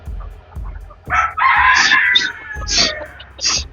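Fancy chickens kept in cages on a poultry farm cluck and crow nearby, with a few loud bursts, while someone talks over the birds.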